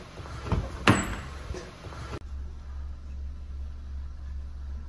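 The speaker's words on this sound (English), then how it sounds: "The roof is operating now as it should." Convertible roof mechanism of a Volkswagen Golf cabriolet: a sharp clunk and some mechanical knocks, then a steady low motor hum that continues on its own to the end.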